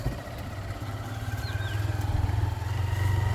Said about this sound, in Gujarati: આવી ગઈ છે અમારી બાઈક તો બાઈક પર હવે જઈએ ઘરે